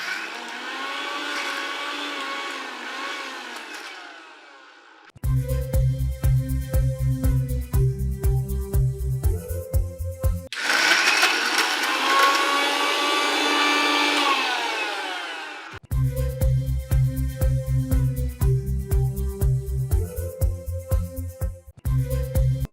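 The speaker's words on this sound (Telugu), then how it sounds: "మిక్సీ వేసేసేయండి." A kitchen mixie grinder blends ridge gourd chutney in two loud bursts, each whirring with a steady motor pitch before stopping, separated by music.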